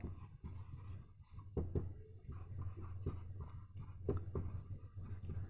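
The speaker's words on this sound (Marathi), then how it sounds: "टिप लिहितोय पहा" Hand-writing a grammar tip with a pen on paper, close scratching strokes in short bursts with brief pauses between words, quiet room.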